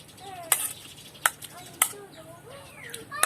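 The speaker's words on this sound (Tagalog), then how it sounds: "Ginisa ko lang to guys sa sibuyas, bawang, luya." Pork intestine sautéed with onion, garlic and plenty of ginger in a home kitchen, with a soft sizzle beneath four or five sharp metal scrapes and clinks of a utensil against the pan at irregular intervals.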